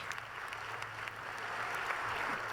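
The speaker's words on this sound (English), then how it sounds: "while many in the room applaud this moment" Sustained applause fills a conference hall as delegates mark a climate deal, a steady clapping crowd that swells slightly louder toward the end.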